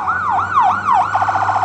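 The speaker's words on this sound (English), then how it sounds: "Looks like there's an ambulance coming." Ambulance siren sweeping up and down in a wailing cycle, then switching to a faster yelp, loud and close on a city street in Vancouver with road traffic underneath.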